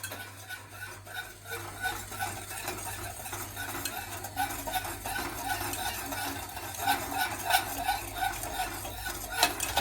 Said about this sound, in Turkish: pudingimizi koyuyoruz ve karıştırmaya başlıyoruz